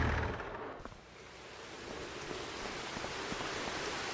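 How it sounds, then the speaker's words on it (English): Steady rain in the video game Farming Simulator 25 hisses evenly as a continuous wash of noise, with a brief louder rumble at the start, and no talk. "I don't think it's going to stop raining."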